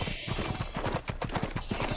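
Horse hooves clip-clopping in the video game Six Guns, a steady rhythmic trot of evenly spaced hoofbeats, moderately loud and close, with no talk over it.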